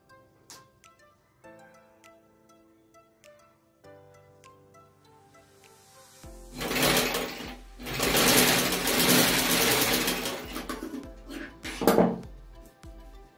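Sewing machine stitching blouse fabric, starting with a steady mechanical whir that runs for several seconds and then briefly pauses before a last short burst, heard over quiet background music.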